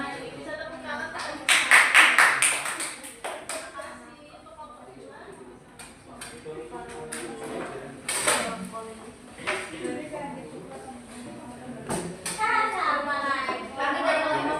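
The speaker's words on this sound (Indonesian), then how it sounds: "Bisa tepuk tangan tak?" A class of schoolchildren claps hands in a few bursts, loudest early on and again near the end, mixed with chatter and a teacher's voice in a primary school classroom.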